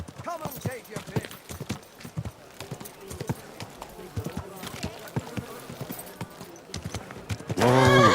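In the medieval game Kingdom Come Deliverance II, a horse's hooves clip-clop in a steady walking rhythm beneath a calm voice, with a horse neighing once and a sudden louder burst of noise at the very end.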